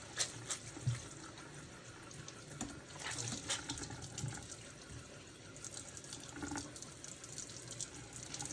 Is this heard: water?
yes